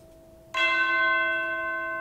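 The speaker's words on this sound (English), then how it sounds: "That classic JRPG tubular bell." A single tubular bell struck in a JRPG-style orchestral mix rings out clearly after a brief held tone, its bright metallic overtones sustaining and slowly decaying.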